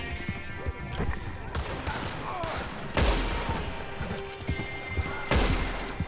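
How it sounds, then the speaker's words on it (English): Gunfire in the video game Red Dead Redemption: several sharp shots crack out amid a busy background, with the loudest blasts coming at about evenly spaced intervals. "That was bad shooting on my behalf."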